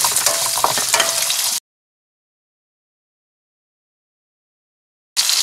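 Ginger and green chillies frying in oil for Kerala-style mango pickle, a close, bright sizzle with stirring that runs for about a second and a half, drops to silence, then resumes briefly at the end.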